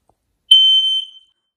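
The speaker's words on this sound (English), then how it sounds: "Der Alarm ertönt laut." An X-Sense smoke alarm sounds during a home test, giving one loud, close, steady high-pitched electronic beep of about half a second that trails off in a short fading buzz.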